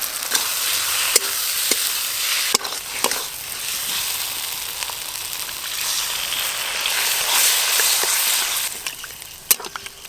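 Raw tomatoes frying in a spiced small-fish curry cooked the village way, a steady close sizzle and bubbling with occasional clinks of a stirring utensil against the pan.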